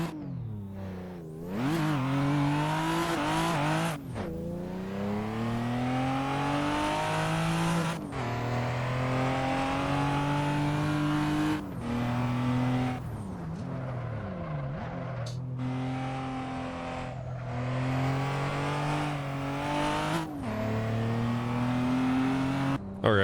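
Stock 2JZ inline-six in a Toyota Supra in Assetto Corsa on a mountain touge road, revving hard and climbing through the gears with repeated upshifts and lifts, loud and steady throughout with no talking.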